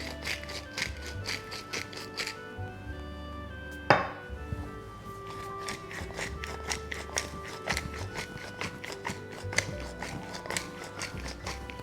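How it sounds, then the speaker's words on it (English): A salt and pepper grinder seasons a salmon fillet with steady, rapid ratcheting clicks close up, broken by one sharp knock partway through. "Put some salt and pepper on it."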